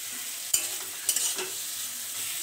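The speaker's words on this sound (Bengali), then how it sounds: "মশলাটা বেশ করে কষানো হচ্ছে এখন" Spice masala for chicken kosha is stir-fried in a pan with a close, steady sizzle, marked by a couple of sharp spatula knocks and scrapes.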